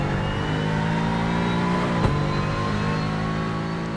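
A GT3 race car engine, the Valor, in the Assetto Corsa driving sim at the Nordschleife, a steady high-pitched drone at sustained revs with a brief gear-shift blip midway, loud and close with no talk.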